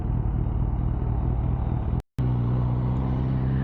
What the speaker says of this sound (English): I'm stuck in the traffic